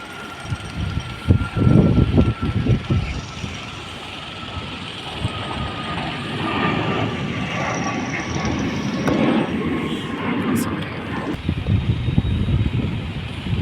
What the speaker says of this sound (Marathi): कशा प्रकारे लँडिंग होतं विमान